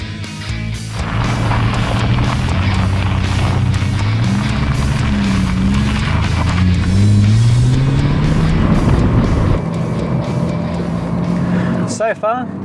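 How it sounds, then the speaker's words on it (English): A Ford EB Fairmont, long unused and just revived, drives along with a loud engine hum that rises and shifts as it accelerates and changes gear, road noise continuous throughout. "Now we can go for a drive."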